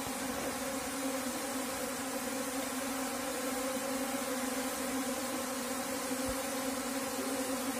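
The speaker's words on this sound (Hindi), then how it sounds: "किस तरह से सारी मधुमक्खी आ गई।" Dense swarm of Apis cerana honeybees buzzing steadily at a hive entrance, a continuous layered hum of many wings with no voices.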